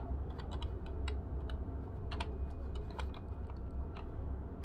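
Keys tapped on a computer keyboard while entering text, a quiet, close run of irregular clicks in small bursts over a faint background hum.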